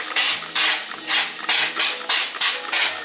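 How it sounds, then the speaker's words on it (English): Repeated short hissing sprays of Star San sanitizer from a trigger bottle, about six bursts in steady rhythm, close and fairly loud with brief pauses between. "I'm going to spray this"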